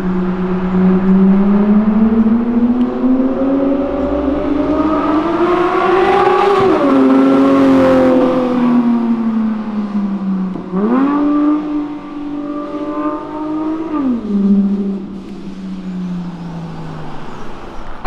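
A white Porsche with a loud exhaust accelerates hard close by, its engine note climbing in long rising sweeps, dipping between gear changes and pulling again, loud and sustained with no talk.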